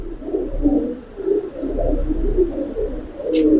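Giribaz pigeons coo softly and continuously in a low, rolling murmur, close by, with a faint chirp near the end.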